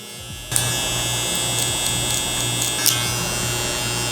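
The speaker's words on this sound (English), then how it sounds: "The cool thing about these clippers is that you can kind of hear the noise when they cut." Electric hair clippers cut hair during a low taper brush back haircut, a close, continuous buzzing drone that starts abruptly and holds steady with small crackling bursts as the blades bite.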